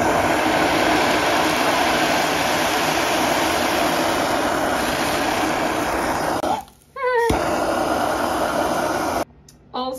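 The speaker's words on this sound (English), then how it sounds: "torch it with propane" Propane torch roaring steadily as it sears salted frozen bacon, a loud continuous broadband hiss that cuts out briefly twice near the end.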